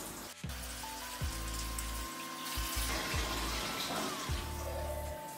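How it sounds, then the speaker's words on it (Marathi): Water runs from a kitchen sink tap into a slowly draining basin, a steady close splashing flow with faint gurgles and a few small knocks, with no talk. "बेसिनचं पाणी थोडं थोडं नॉर्मल जाते, जरा वेळ लागते त्याला."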